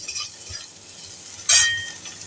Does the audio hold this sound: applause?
no